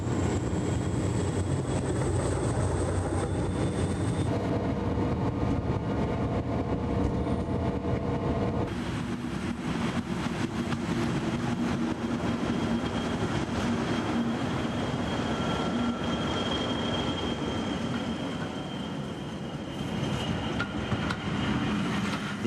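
English Electric Class 40 diesel locomotive, a British type from the pilot scheme era, rumbling past loud and close with a steady roar, a shift in tone partway through and faint clickety-clack of wheels over rail joints.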